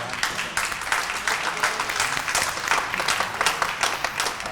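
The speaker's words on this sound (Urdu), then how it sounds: "اتنی بھی تالیاں بج گئی ہیں" Studio audience applause at a Ramazan television show, steady dense clapping filling the room without a break, with a few louder bursts, and no talk over it.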